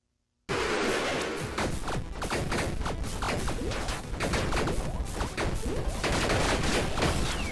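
Dense, continuous barrage of overlapping explosions and impact bursts from the roguelike video game Tiny Rogues, loud and chaotic after a brief silent start, with no let-up.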